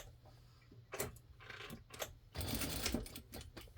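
A sewing machine top stitches across a seam on a stocking in short, quiet stop-start bursts with brief pauses between runs.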